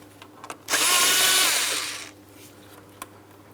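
A power tool with an 8mm socket spins loose hose clamps on the intake plenum of a 2003–2007 Cadillac CTS 3.6L V6, one close whirring burst lasting over a second, then light handling clicks and no speech.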